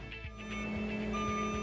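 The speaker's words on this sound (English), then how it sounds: "If your machine is equipped with a backup alarm, it must sound when operating in reverse." A Bobcat loader's backup alarm beeps in a steady repeated rhythm while reversing, over a loud continuous engine drone and hum.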